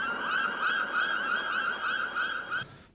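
Synthesized recreation of a seagull cry, a steady bright tonal call with a gliding harmonic layer, sustained for over two seconds at moderate level before cutting off abruptly.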